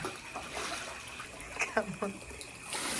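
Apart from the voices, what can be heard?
water overflowing from a deep well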